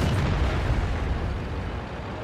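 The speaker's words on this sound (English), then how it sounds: "their artillery just fired at you" Distant artillery fire from a tank battle video game lands as a low, sustained rumble, a muffled boom rolling on for about two seconds with no talk over it.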